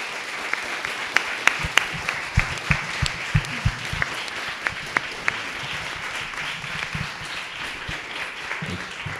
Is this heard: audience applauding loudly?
yes